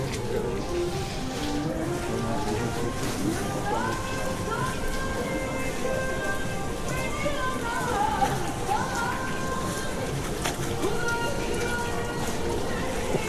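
Steady rain falls on a Marmaris evening, a continuous broadband hiss heard close and loud throughout, with music and tonal sounds layered over it and no clear voices.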